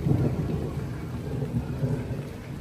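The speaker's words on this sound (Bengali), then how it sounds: "মেঘ ডাকছে" Deep thunder rolls through steady rain, a continuous low rumble that swells and fades without pause for a couple of seconds, fairly loud and close.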